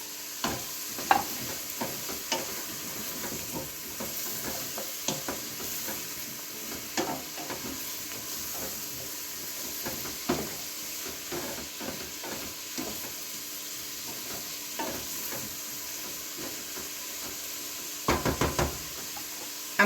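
Vegetables with zucchini sauté in a pan for broccoli soup, a steady soft sizzle broken by frequent light knocks and scrapes of a stirring utensil, with a short cluster of taps near the end.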